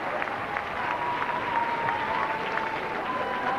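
An ice hockey crowd in an arena applauding and cheering, a dense, sustained wash of clapping that stays even throughout, heard from within the stands.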